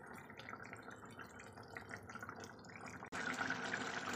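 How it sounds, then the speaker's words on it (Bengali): Mustard oil is poured into a simmering hilsa fish curry in a faint, close trickle with soft dripping, followed by a sudden, slightly louder bubbling hiss near the end. "আর এখন দিয়ে দিচ্ছি এই যে সর্ষের তেল।"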